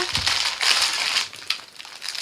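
Loud plastic packaging crinkling and crushing close by, a dense continuous rustle with a few sharper crackles and no voices.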